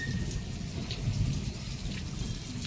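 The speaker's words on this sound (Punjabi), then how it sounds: "ਤੇ ਮੀਂਹ ਆ ਜਿਹੜਾ ਦੇਖੋ" Steady rain falls and patters on surfaces, a constant soft hiss with a low rumble underneath, with no voices.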